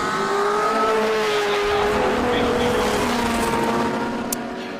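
Heritage touring cars racing on a circuit, their engines blending into a loud, continuous roar that holds steady for several seconds before easing slightly at the end.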